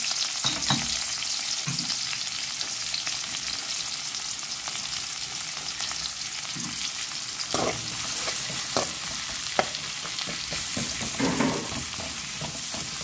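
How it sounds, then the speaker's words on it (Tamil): Chopped onions and green chillies fry in a pan for vegetable rava upma, a constant quiet sizzle with scattered scraping stirs and clinks, close by and without any talking. "கொஞ்சம் பொரிய போல் ஆனியனையும் க்ரீன் சில்லியும் போட்டுக்கிறேன்."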